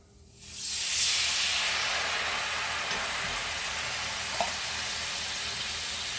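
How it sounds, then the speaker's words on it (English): Maple syrup, apple cider vinegar and Worcestershire sauce poured into a hot cast iron pan burst into a loud, steady hissing sizzle that swells quickly and holds, close and continuous without talk. "we must add the maple syrup, apple cider vinegar, and Worcestershire sauce concoction into the pan"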